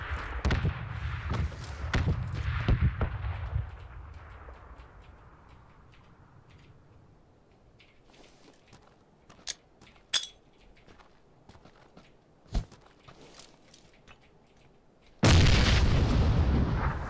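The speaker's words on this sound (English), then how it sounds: "I keep hearing shots on dudes." Gunfire in the PUBG video game on a new map: a heavy rumbling burst at the start, a long decay, then several isolated distant sharp shots and a loud blast at the end, no talk.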